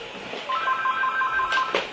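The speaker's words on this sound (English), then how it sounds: "hold on, I forgot to unplug the phone" A telephone rings indoors with a steady electronic warble in two short repeating bursts, fairly close and clear, and no one speaks over it.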